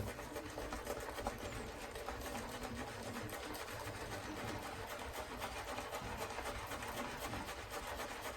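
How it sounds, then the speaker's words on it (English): A Semogue Owners Club Taj premium boar shaving brush scrubbing lather against the face, giving a steady bristly, wet rasping that continues evenly throughout, close and moderately quiet. "I'm just really enjoying the scrub on this brush."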